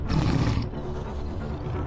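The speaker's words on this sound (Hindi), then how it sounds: "उन्हें बाघिन के गुर्राने की तेजी से आवाजें आने लगती हैं" A tigress in the forest growls, a deep loud rumbling roar that swells for about half a second and then settles into a lower continuous growl, close and alone without any talking.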